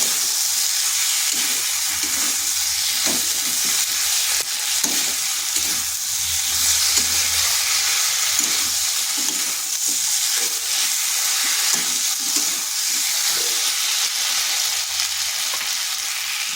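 Pumpkin and egg curry with chilli powder and salt sautéing in a pan, a loud, continuous close sizzle broken by rhythmic scraping strokes of a spatula, with no speech.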